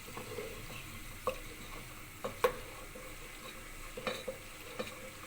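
Milk cream (balai) simmering down into ghee on low heat, a soft steady bubbling with a faint hiss, broken by a few sharp clicks and scrapes of a spoon stirring against the pot.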